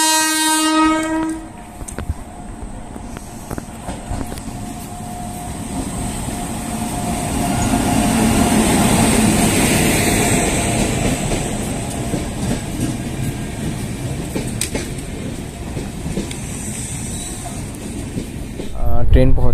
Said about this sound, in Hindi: ट्रेन पहुंच चुका था अराउंड 6:25 AM को और 6:30 को प्लेटफॉर्म से निकल पड़ा